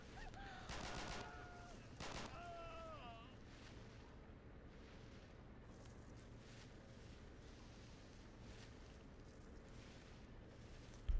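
Distant German gunfire and mortar fire in a WWII game set during the Allied invasion of Italy, faint crackling shots and muffled thumps early on, then a low rumbling battle ambience.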